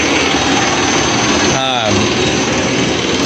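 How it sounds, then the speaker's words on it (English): A 480-volt three-phase AC motor on a Clausing lathe runs at idle at low speed with no load, a steady loud broadband hum throughout, briefly overlaid by a short voiced sound near the middle. "So what's going on here is this is a 480 volt AC motor, 3-phase."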